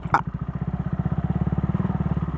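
A Bajaj Rouser motorcycle set up as a trail bike rides on a dirt trail, its engine chugging at low revs with a steady, rapid throbbing pulse, close and fairly loud throughout.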